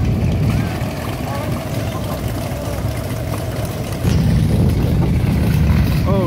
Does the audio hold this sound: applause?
no